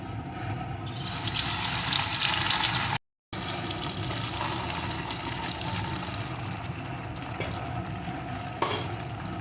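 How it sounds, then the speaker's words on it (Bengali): Marinated paneer pieces frying in hot oil in a pan, giving a loud, steady broadband sizzle and crackle that swells after the pieces go in, briefly cuts out, then continues without any talking. "এখন ম্যারিনেট করা পনিরগুলোকে এর ভিতরে দিয়ে প্রথমে একটু ভেজে নেব"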